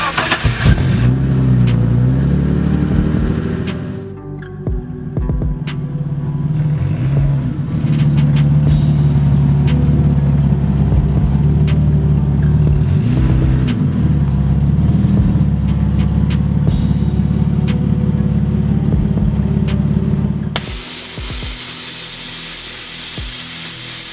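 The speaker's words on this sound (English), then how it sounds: "I'm going to take the car back inside storage" A lowered BMW E30 on air suspension idles and creeps back into a storage space, its engine a steady loud drone with a brief dip early on and an abrupt change in tone near the end.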